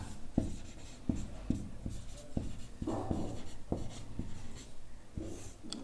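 Handwriting during a Class 9 maths lesson on cube volumes: repeated short scratching strokes of pen or chalk, close and fairly steady, with small pauses between word groups and no voices.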